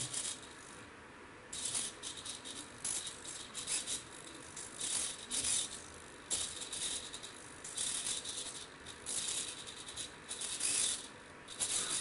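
SG90 micro servo motor driven by an HC-SR04 ultrasonic sensor on an Arduino Nano, turning in repeated short bursts of faint buzzy whirring and rattling as a hand moves closer, with no talking.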